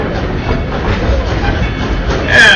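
Dollywood steam train riding through the Smokies, its steady rumble and rattling wheels continuing throughout at close range, with a brief higher hiss or squeal rising near the end.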